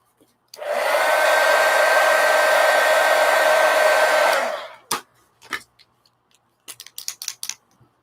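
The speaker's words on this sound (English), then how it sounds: "now I'm going to hit it with the heat gun." A heat gun blows on an art journal, a loud steady roaring whoosh lasting about four seconds before it cuts off, followed by a few close clicks and soft handling taps.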